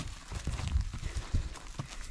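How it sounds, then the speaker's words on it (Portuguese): Pandora, an old mare, shifts about close by, her hooves knocking out soft, irregular clip-clops on the ground, quiet and uneven with no voices heard. "E nossa égua Pandora, tio."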